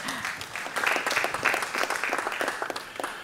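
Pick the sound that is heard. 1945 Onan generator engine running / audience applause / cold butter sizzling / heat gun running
audience applause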